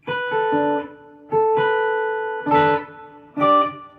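Electric guitar chords played through a shimmer reverb pedal, ringing out with a lush, shimmering reverb tail, several strummed chords separated by short pauses, played alone.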